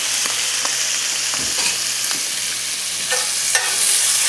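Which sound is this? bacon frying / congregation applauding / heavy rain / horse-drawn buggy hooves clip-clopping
bacon frying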